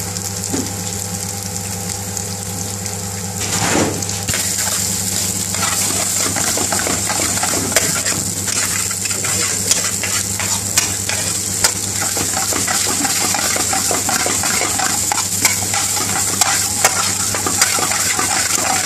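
Egg frying and being stirred in a hot pan for British Indian restaurant-style egg fried rice, with a steady sizzle under repeated scraping and clinking of utensil against metal, close and loud.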